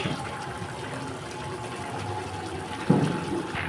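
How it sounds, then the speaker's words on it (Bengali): Washed potatoes drop into a pot of water for a homemade chicken curry, giving one clear splash near the end over a steady watery background hiss. "দেখুন আলুগুলো দিয়ে দিচ্ছে এক এক করে"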